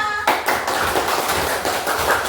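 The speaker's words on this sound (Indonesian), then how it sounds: "Kasih aplaus buat kita semua" Students in a primary school coding class give brief applause, a short burst of quick, dense clapping that starts abruptly and holds steady for about two seconds.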